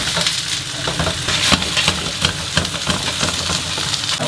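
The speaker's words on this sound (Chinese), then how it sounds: "鱼片煎好之后换一面" Pan-fried crucian carp being turned over in hot oil: a dense, continuous sizzle punctuated by quick scraping and tapping of a spatula against the pan, close and fairly loud, with no talking.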